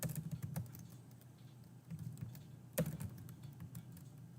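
Quiet computer keyboard typing, a few soft key taps and clicks spread across a faint background, with one sharper click near the end.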